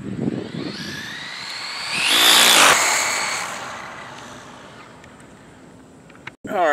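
Electric RC dragster car on a 2S 7600 mAh LiPo making a run, a rising whine that swells loud around the middle then fades away, with faint background noise before and after.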